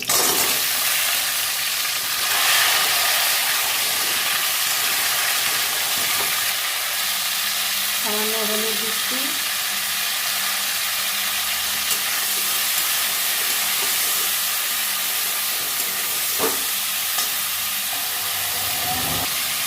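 Cauliflower florets frying in oil in a pan, a steady sizzle running throughout with a few brief stirring scrapes, and a voice speaks briefly partway through.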